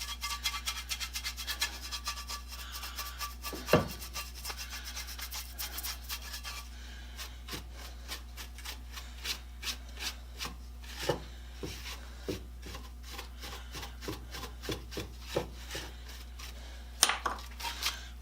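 A metal hand plane sole rubbed back and forth on coarse sandpaper over a flat plate, an irregular gritty scraping with scattered small knocks and taps against a steady low hum.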